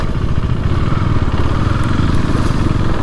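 A motorcycle engine drones loudly and continuously while riding on a road trip from Dhubri to Kazigaon, with a steady rough rumble and wind noise close by.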